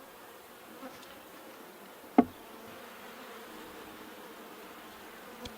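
Honey bees buzz around an opened hive, a faint, steady hum with one sharp knock midway and a couple of softer taps, no voices.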